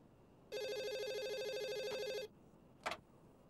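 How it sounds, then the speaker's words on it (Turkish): A telephone rings with an electronic melodic ringtone lasting under two seconds, loud and steady, then stops, followed by a brief short sound. "Ben de bu telefon niye böyle güzel güzel aşk şarkıları çalıyor diyordum."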